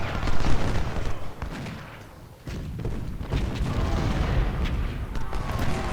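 Cannon and rifle fire from the Civil War battle game Ultimate General, Battle of Chickamauga, sounds as a dense, continuous roar of booms and crackling musketry with a brief lull midway.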